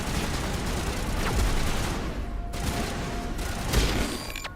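Pistol gunfire in Mass Effect 1, a few sharp shots over a dense, noisy battle soundscape with other weapon fire, fairly loud and continuous throughout.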